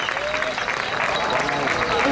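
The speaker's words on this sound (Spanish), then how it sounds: "Ese aplauso, Pasajeros al Tren, lo habrán visto todos ustedes," Audience applause at an awards ceremony for the Mayos contests in Spain, a steady, dense wash of clapping filling the whole stretch at moderate loudness, with voices faintly mixed in.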